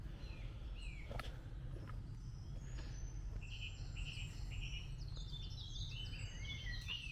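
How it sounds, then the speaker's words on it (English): Birds chirp and tweet at a canal mooring beside a narrowboat, with scattered high calls that are fairly faint over a steady low outdoor rumble. "That's birds."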